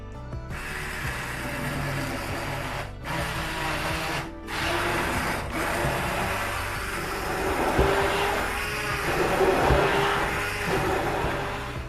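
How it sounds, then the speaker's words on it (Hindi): A kitchen blender purees boiled onions and tomatoes with a loud, continuous motor whir that cuts out briefly twice early on, then runs on with a slightly shifting pitch. "ये हमने 1 पाव प्याज और 1 पाव टमाटर उबाल लिए। अब हम इनको ब्लेंड कर लेंगे।"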